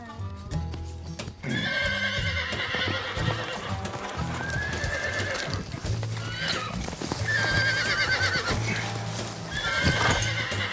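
A horse in training whinnies repeatedly in loud, close neighs over steady clip-clopping hooves on the ground, with a brief pause early on before the hoofbeats and calls continue.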